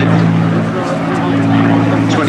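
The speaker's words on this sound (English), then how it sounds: "Music of the Merlin there. Rolls-Royce Merlin." Loud, close roar of a Rolls-Royce Merlin 27-litre V12 aero engine on an aircraft flying at a seaside airshow, a thick, steady droning rumble that fills the short moment without a break.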